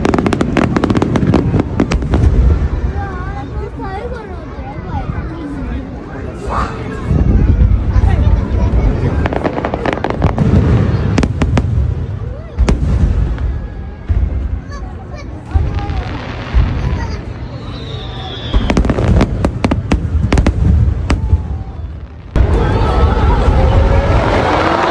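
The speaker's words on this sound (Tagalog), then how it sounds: "Ang galing talaga ng Japan sa ganitong mga fireworks shows." A long fireworks display at Expo 2025 Osaka, Japan, with continuous loud booms and crackling bursts, a crowd murmuring in the background throughout.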